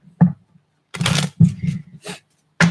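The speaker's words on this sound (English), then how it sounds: "Gotta shuffle." Tarot cards being shuffled by hand at close range, in several quick riffling bursts separated by short pauses.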